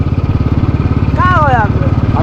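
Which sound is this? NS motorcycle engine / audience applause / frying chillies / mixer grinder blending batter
NS motorcycle engine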